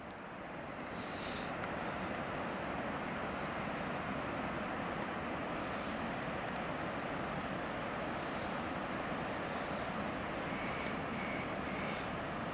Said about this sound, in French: C'est plein de cascades. On les entend couler, c'est puissant.